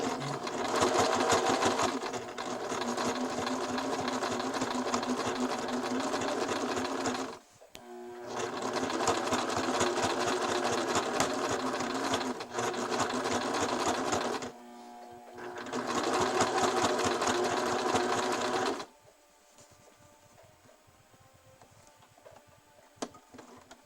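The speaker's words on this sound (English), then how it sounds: "Now I'm going to switch to a narrow zigzag or wobble stitch, and we're going to just stitch our seam." A sewing machine runs a narrow zigzag stitch along a seam in underwear fabric, whirring steadily in three long bursts with brief pauses between them, then going quiet near the end.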